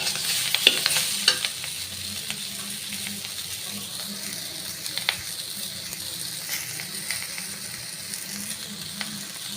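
Stirring of sautéed vegetables in a pan at home, with a low sizzle and faint scraping; there are a few sharper clinks early on and a steady, soft hiss with no clear pour.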